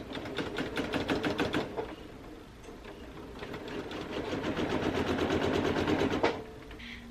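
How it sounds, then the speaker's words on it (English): A sewing machine stitches scrappy fabric strips for a quilt border, giving a rapid rhythmic needle clatter in two runs with a short pause between them, close and clear. "So I'm going to combine some strips and then sew them to the sides."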